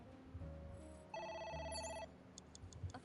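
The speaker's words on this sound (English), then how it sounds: "A phone. Should I pick it up?" A video game telephone rings once in a sustained electronic trill, faint and set against a quiet background, followed by a few soft clicks.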